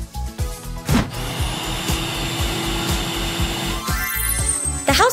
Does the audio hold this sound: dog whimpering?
no